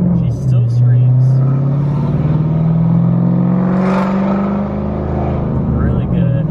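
A cammed Ford Mustang GT V8 with a custom bass tune, rumbling loud and close as it revs up and holds a steady, rising roar for several seconds.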